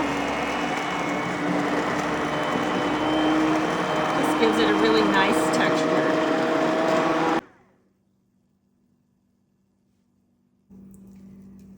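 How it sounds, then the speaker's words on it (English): Immersion blender whirring steadily as it purees tomato soup directly in the pan, a loud continuous buzzing drone under a brief spoken remark, cutting off abruptly into near silence before a faint hum returns. "I like to add my immersion blender right to the pan to make it especially smooth"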